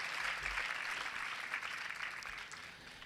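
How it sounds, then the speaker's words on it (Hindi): A church congregation at a Lent Friday service claps in a steady, even wash of applause, moderately distant and sustained throughout. "ज़ोरदार तालियां"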